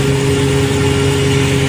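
Onboard engine of the large passenger ship MV Orion Star, droning loud and steady with a constant low hum and no pauses over a short stretch.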